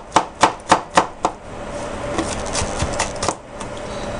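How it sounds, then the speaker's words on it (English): A knife minces garlic on a cutting board in a home kitchen, five sharp evenly spaced chops up close, then a looser run of quicker, softer taps and scrapes. "we're gonna go ahead and mince our garlic here. Make them into nice little tiny pieces"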